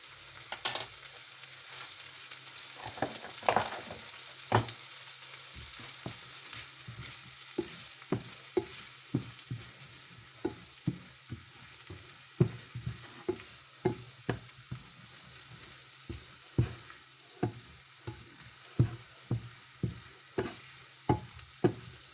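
Softened onions frying in butter and olive oil in a pan, a faint continuous sizzle broken by a long series of distinct taps and scrapes from stirring, fairly quiet and close, with no talking.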